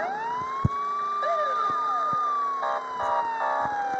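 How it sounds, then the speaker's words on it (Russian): A police siren in the game Offroad Car X sounds continuously with a slow wavering pitch, over a rumbling engine, while brief horn-like tones and thumps cut in. "Полицейская сирена, я никогда ее не видел."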